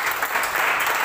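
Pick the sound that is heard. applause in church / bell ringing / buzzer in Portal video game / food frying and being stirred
applause in church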